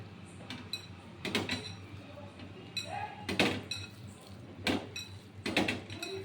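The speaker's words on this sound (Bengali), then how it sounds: "দিয়ে আমি এটা আবার সুন্দর করে মাখবো" Palm fruit fritter batter sweetened with sugar is mixed by hand in a bowl, giving soft squelching and scraping with intermittent clinks against the bowl, recurring in irregular bursts at a moderate, close level.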